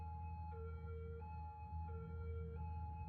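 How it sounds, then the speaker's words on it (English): An ambulance siren in a city-building video game wails in a steady two-tone alternation, switching pitch about every two-thirds of a second, loud and continuous over a low traffic rumble. "Hearing a siren."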